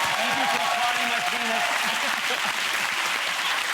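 A studio audience of a television talk show applauds loudly and steadily, a full wash of clapping with a few faint voices underneath.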